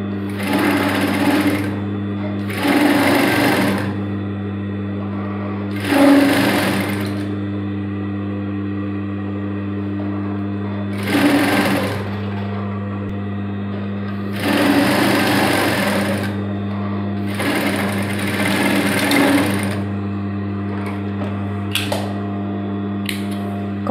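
Sewing machine stitching denim jeans with a stitch length of 3.5, running in loud close bursts of a few seconds each, separated by pauses while a steady motor hum continues underneath.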